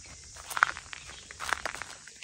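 Close footsteps crunching through dry undergrowth in a fire-burnt forest, a few uneven steps with rustling and crackling in between.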